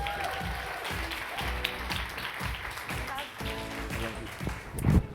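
Audience applause and cheering for a panel host at a creator economy event, steady clapping with crowd voices running throughout, moderately distant.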